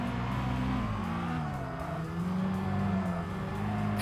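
A Mazda MX-5 Miata engine drones steadily through a race in Tokyo Xtreme Racer: Drift 2, a continuous buzzing tone rising and falling with the revs, fairly quiet and with no break.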